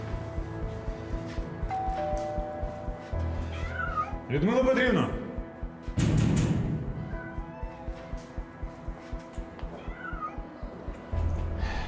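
A cat meows repeatedly behind a closed door. The rising and falling calls are fairly close and loud, and a voice calls out and speaks between them.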